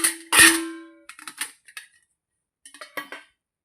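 Metal parts of a sturdy idli cooker are fitted together in a loud opening clang followed by several lighter clinks and rattles, then a short pause and a few more taps.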